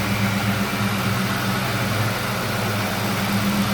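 Steady, smooth 2004 Ford Mustang Mach 1 engine idle heard up close under the open hood, a constant low hum and faint vibration throughout with no talking.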